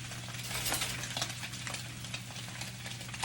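A fork whisks egg for a breakfast tortilla in a quick, steady stream of soft clicking and scraping against the bowl, fairly quiet and close, over a low constant hum.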